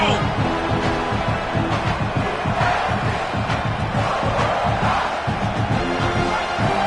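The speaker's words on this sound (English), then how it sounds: "this crowd coming to life here, trying to help the defense get a stop" A large stadium crowd roars and chants in a dense, sustained wall of noise, with rhythmic surges and shouting voices throughout.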